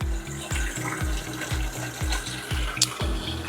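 Tap water runs steadily from a faucet into a sink or container for a water hardness test, a close, continuous splashing flow with regular gurgling pulses and no talking.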